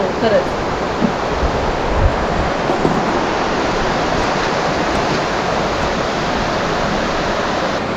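Steady broadband rush of flowing water, continuous and fairly loud throughout, like a stream churning nearby with no pauses, near Dirang in Arunachal Pradesh.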